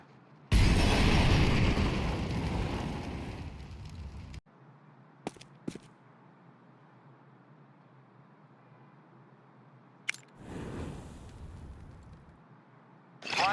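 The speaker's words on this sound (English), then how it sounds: "Throwing a Molotov." A Molotov cocktail is thrown and bursts into flame in the Counter-Strike game on the Overpass map, a loud whooshing roar that lasts about four seconds, then a quieter crackle with brief clicks and a short later flare-up.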